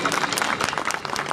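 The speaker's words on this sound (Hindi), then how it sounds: "ऐसे कविता पाठ के लिए 1 मिनट तक खड़े होकर तालियां बजनी चाहिए" Audience in a Hindi poetry recital hall breaks into dense, steady clapping after an 1971 war poem, a brief burst of many hands close and continuous without talk.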